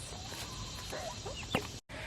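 Young turkeys on a homestead nursery pen giving brief faint chirps and peeps against a steady background hum, with one louder call near the end.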